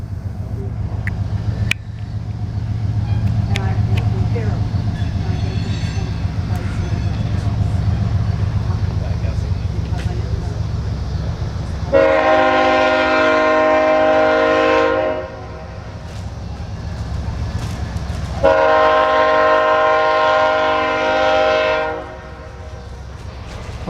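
CSX ethanol freight train rumbling past in Fostoria, Ohio, with two long loud horn blasts sounding over the steady rolling noise of the cars.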